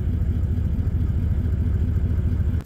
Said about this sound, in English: she sounds bloody good at idle